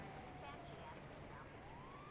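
A police car siren in a video game wails faintly in the distance with a rising and falling tone, low under a steady bed of game background noise.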